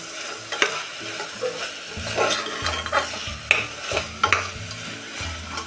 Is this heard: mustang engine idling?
no